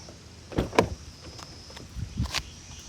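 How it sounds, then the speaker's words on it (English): A car door opens: faint, close clicks and soft thuds from the latch and handle, scattered across a few seconds in a quiet outdoor setting. "The next thing would be to actually open the door."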